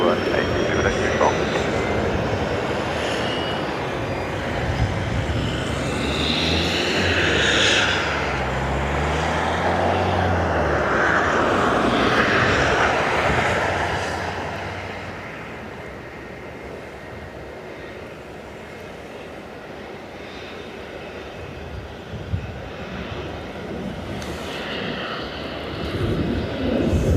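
A Royal Australian Air Force Boeing 737 Max jet at Dublin Airport gives a broad engine roar that swells to a loud peak and then slowly fades, with voices murmuring throughout.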